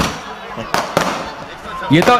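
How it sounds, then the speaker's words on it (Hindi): A string of about eighty firecrackers set off together gives two sharp, close bangs over a noisy crowd, with a voice calling out near the end. "ऐसी आतिशबाजी होती है"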